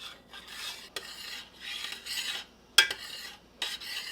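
Strawberry syrup stirred in a pan, slow scraping and rasping strokes in bursts with brief pauses and a couple of sharp utensil clicks, close and fairly quiet.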